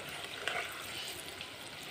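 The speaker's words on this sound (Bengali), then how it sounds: "দেখুন এরকম লাল লাল করে একটু হালকা লাল করে ভেজে নেব, বেশি ভাজবো না কিন্তু।" Palm fruit pitha fry in hot oil with a steady, dense crackling sizzle and scattered pops, close and continuous throughout, with no voices.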